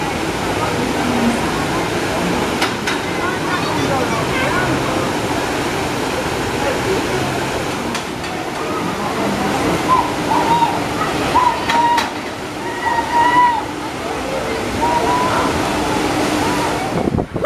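Rushing water on a wild river rafting ride at a safari park, a steady loud roar of churning, splashing flow with bursts of spray, and voices calling out faintly over it.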